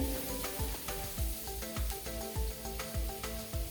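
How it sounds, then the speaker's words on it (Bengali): Cumin seeds and chopped onions frying in oil give a quiet, continuous sizzle with repeated soft scraping strokes of a spatula stirring at a fairly regular rhythm. "এই তেলে একটুখানি সাদা জিরে ফোড়ন দেব, পেঁয়াজ কুচিগুলো দিয়ে দেব।"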